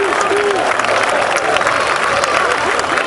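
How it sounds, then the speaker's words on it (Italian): Dense, steady audience applause at a burlesque show in a gym, sustained and loud for the whole stretch, with crowd noise and a few voices mixed in. "Sentire i grandi applausi per Valentina Sinigallia, Nieve Sotto e Kett"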